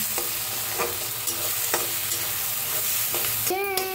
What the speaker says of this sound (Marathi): आता छान मिक्स करून भाजून घेऊया आपण।